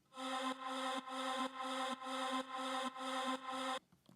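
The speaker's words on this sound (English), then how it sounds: "So this is the vocal ambience." Vocal ambience sample in an Ableton Live remake of a track: a breathy, airy sustained pad rhythmically gated into eight even pulses, moderately loud and alone, fading out at the end.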